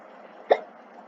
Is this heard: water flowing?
no